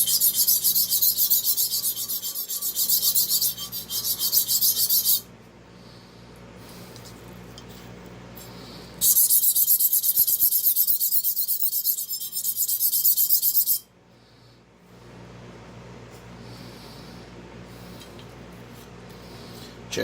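Straight razor honed with its bevel laid flat on a sharpening stone, giving two long bursts of steady, close raspy rubbing separated by quiet pauses.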